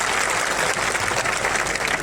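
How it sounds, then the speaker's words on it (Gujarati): A large crowd of thousands at an outdoor Gujarati political rally claps at length, a dense, even wash of applause with no voices over it. "સૌ માટે એકવાર જોરદાર આપણે તાળીઓ પાડી લઈએ"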